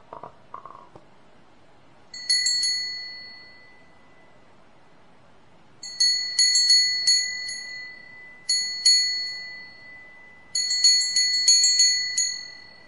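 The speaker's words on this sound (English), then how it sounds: "Now in a few moments I'm going to ring the bell." A meditation bell is rung several times in near silence, each strike giving a bright ringing tone that fades away, with the strikes coming singly and in quick clusters.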